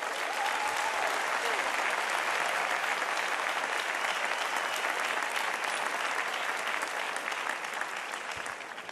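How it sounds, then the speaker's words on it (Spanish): A large crowd of young people at a World Youth Day Mass applauds the bishops. The dense, continuous clapping is fairly faint and distant and carries on steadily for about nine seconds. "Un aplauso para los obispos"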